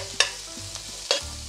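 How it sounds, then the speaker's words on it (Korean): Sea cucumber and other ingredients stir-fried in a hot pan give a steady, close sizzle, broken by a few sharp scrapes of the utensil against the pan. No voices. "이렇게 지글지글지글 볶아주세요"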